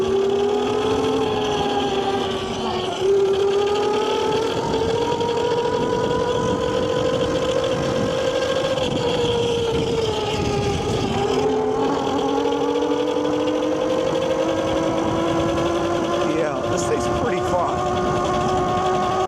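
A Yozma IN 10 electric dirt bike being ridden gives off a steady motor whine that shifts gradually in pitch, with wind and rolling noise throughout at close range and no talking.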